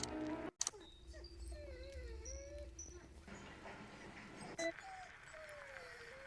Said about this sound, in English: The dog whining is really loud.